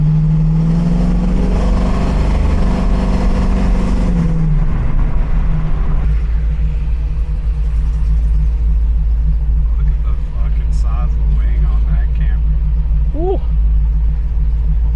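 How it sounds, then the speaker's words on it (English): A custom 1971 Plymouth Cuda 440's deep exhaust rumbles steadily at idle, with a brief revving swell near the start, and a voice talks faintly over the engine. "got a nice exhaust system too,"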